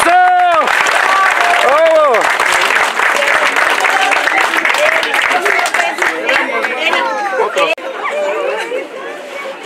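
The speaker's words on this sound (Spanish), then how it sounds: "Vamos a brindarle un fuerte aplauso enorme, enorme a la señora Socorro." A crowd gives a cook a strong round of applause at an outdoor community meal of soup and sopes with a chinelos troupe in Huehuetalco. The clapping is loud and continuous, with voices calling out and chatter mixed through it.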